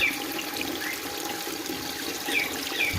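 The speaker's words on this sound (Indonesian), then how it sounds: "contoh penghasil oksigen di kolam akuatik di dalam apiari adalah salah satunya air terjun ini." A small artificial waterfall trickles into an aquatic pond inside an aviary, giving a steady, close splashing wash that runs the full length with no voices, joined by a few faint high chirps.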